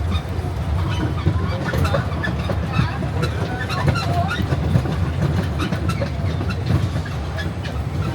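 A small train rumbles along steadily with a rhythmic clickety-clack of wheels on track, loud and close throughout.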